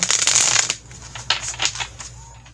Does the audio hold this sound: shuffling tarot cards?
yes